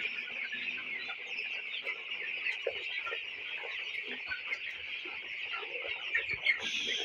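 A shed full of 17-day-old broiler chickens, a dense and constant chorus of soft peeping and clucking from many birds at once, steady and moderately loud with no talk.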